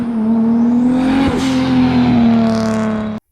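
A car fitted with a Tial Q turbo blow-off valve drones loudly as the engine holds a steady note, with a brief rushing burst in the middle and a hiss near the end before it cuts off.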